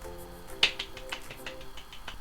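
A very quiet round of applause from a small group: a few sparse, soft claps and taps scattered across a short stretch, close and faint.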